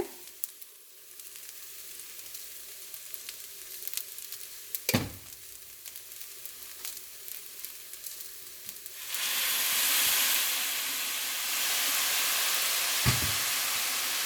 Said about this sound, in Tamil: அடுத்ததாக நான் இப்போ சோயா சாஸ் விடுறேன்.